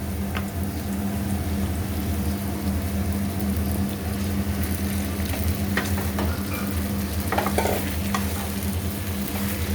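Sabudana (sago) frying in a pan, a steady sizzle with a constant low hum beneath and occasional scrapes of a spoon stirring, close and continuous without any talk.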